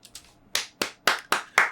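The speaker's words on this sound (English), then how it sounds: "Another clap for that." Sharp hand claps, a couple of faint ones followed by five loud, evenly spaced claps close by.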